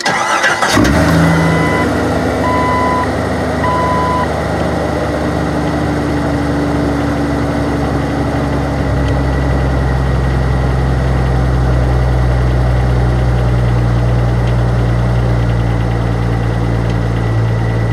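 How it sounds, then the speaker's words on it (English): A car engine cranks and catches, then idles fast and steady at a high, constant drone, loud and close, with no one speaking. "I wanted y'all to listen where she's idling."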